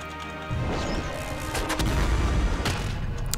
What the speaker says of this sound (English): They're easily gonna kill themselves with the nuke launcher here.